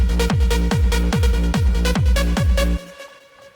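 Layered big room rave synth leads built in FL Studio play together in a loud, punchy pumping rhythm of about seven even hits, then cut off, leaving a fading tail.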